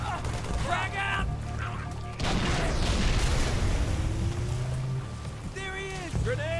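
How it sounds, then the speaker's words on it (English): A frag grenade detonates in the shooter game Halo 3, a broad booming blast swelling over several seconds amid ongoing combat noise, with a voice shouting in the mix. "Frag out!"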